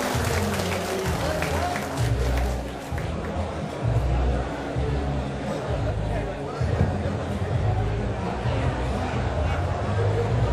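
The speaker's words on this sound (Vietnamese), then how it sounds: "Quý vị vỗ tay cho với." An audience at a community reunion gathering applauds with sustained, dense clapping mixed with crowd murmur and voices, steady and fairly loud throughout.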